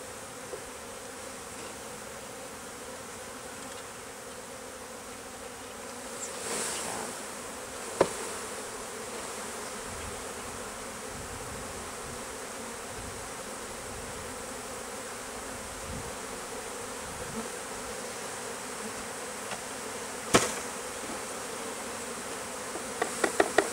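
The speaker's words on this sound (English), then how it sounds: "Looks like a swarm around here, you wouldn't believe it." A swarm of bees buzzing around a pop-up camper at dusk, a steady dense drone that continues unbroken throughout, with a few faint knocks and clicks in the background.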